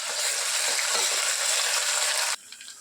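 Ginger garlic paste frying with onions in a pan for mutton curry, a loud steady broadband sizzle that holds for most of the moment before dropping off suddenly, with no voices.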